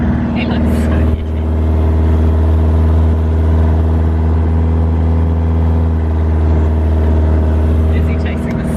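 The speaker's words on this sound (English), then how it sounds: "It is hard driving on the sand, eh?" A manual car drives across soft beach sand, its steady mid-pitched engine hum loud and close, with a brief dip early on and people talking over it.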